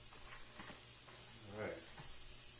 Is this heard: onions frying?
yes